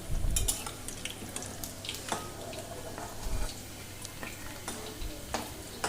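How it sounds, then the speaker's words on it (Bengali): Jute leaf fritters, pat patar bora, frying in hot oil, with a steady low sizzle and a few light clinks and stirring taps of utensils against the pan, near and alone. "খুব ভালোভাবে এগুলোকে তোমাদের ভেজে নিতে হবে"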